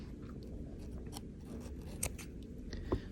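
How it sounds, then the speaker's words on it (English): Scissors snipping a length of thread for hand-stitched buttons, a few faint, sharp clicks scattered over a quiet background, close by with no talk. "I'm going to cut off my length here."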